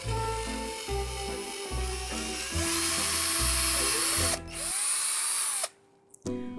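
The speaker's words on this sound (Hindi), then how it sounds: "हम एक पतले ड्रिल बिट को यूज करेंगे and let's start making the whole." An electric drill gun with a thin bit bores holes, whining in repeated bursts with pitch changes as it starts slow and speeds up, then cuts off to near silence.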